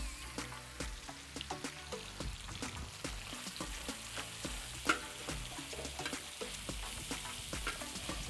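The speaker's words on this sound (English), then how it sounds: "Okay, now I'm adding my 2 pounds of ground beef." Two pounds of coarse ground beef fry on a discada for Mexican discada tacos, giving a steady close sizzle dotted with sharp crackles and pops throughout, with no talking.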